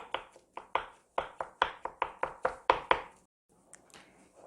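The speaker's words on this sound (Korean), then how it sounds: "이렇게 뜨거울 때 주걱이나 수저로 막 으깨 주세요" Hot boiled potatoes for potato salad being mashed with a spatula or spoon, a brisk series of about a dozen sharp taps and thuds against the bowl, close and clear, then a softer scrape at the end.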